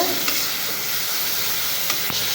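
Spices sautéed in a pan for a dried lotia fish bhuna: a loud, constant frying hiss with a couple of sharp spatula scrapes, up close and without voices.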